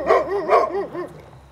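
Adult father dog of a new puppy barking at home, a quick burst of loud, close woofs followed by a few softer, trailing barks.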